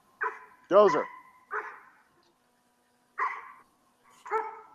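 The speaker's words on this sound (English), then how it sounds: "He's so excited about a squirrel. He's a hunting dog." A hunting dog, excited by a squirrel, gives several loud, close barks and yips in separate bursts with quiet gaps between them.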